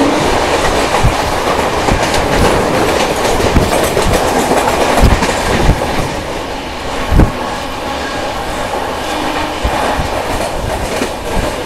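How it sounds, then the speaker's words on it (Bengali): The Padatik Express rolls steadily along the rails after leaving Sealdah station, a loud continuous rumble with rhythmic wheel clatter and occasional heavier thumps from inside the carriage. "আমাদের ট্রেন শিয়ালদা স্টেশন থেকে বেরিয়ে গেছে।"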